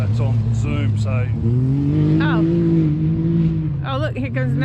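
Race cars circle a track in Alice Springs, a continuous engine drone swelling and shifting pitch as a car passes, with people chatting over it.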